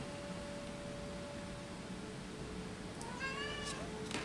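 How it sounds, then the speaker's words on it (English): A domestic cat gives a single short meow near the end, clear but fairly quiet over a constant background hiss. "my cat just agreed again"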